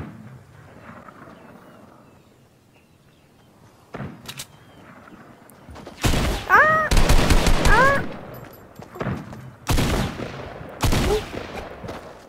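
Bursts of rapid gunfire from Fortnite Battle Royale crackle in loud volleys, with quieter shots and faint background noise before and between them.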